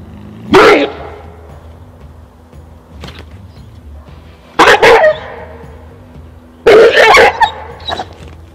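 An aggressive mixed-breed dog barks in three loud, close bursts, with sharp harsh barks separated by quieter pauses and a brief softer yelp between them.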